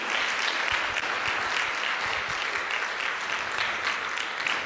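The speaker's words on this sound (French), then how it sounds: "on peut les applaudir pendant ce temps-là" Continuous applause for award winners posing for a group photo at a conference on adapting to an overheating planet, a dense, even wash of clapping from a seated audience that holds steady from start to finish.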